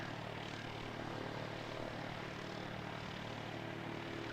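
ATR turboprop airliner in a black livery at Christchurch Airport, New Zealand, giving a steady, continuous engine and propeller drone that holds at even loudness throughout with no talk over it.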